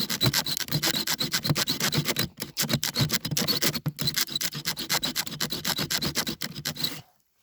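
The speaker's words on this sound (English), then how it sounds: "I start by sawing in to the side" A Becker BK2 knife saws into a piece of fatwood from a stump with rapid, rasping back-and-forth strokes, close and steady, pausing briefly twice before stopping.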